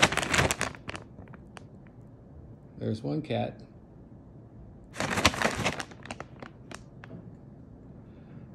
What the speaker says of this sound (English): Now, if I shake this bag of treats,